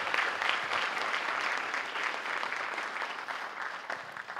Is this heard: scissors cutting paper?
no